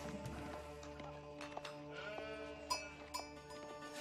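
Sheep bleat repeatedly in the Age of Empires 4 strategy game, their calls mixed over steady game music and ambient tones, with a couple of sharper bleats standing out near the end.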